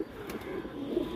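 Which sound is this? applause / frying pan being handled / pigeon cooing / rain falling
pigeon cooing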